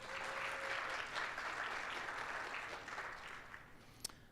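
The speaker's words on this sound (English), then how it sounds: "how about a round of applause for our birthday kids?" An indoor audience applauds the week's birthday kids, a full steady burst of clapping that gradually thins out toward the end, with one sharp clap near the close.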